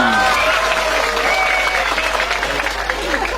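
An audience at a lively Sundanese religious lecture claps together in a steady, dense patter, with voices and cheering mixed into the clapping.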